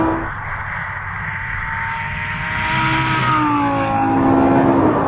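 A 2013 Lamborghini Gallardo's engine howls on a race track, a steady loud roar whose pitch climbs through the revs and swells louder toward the end, with no talk over it.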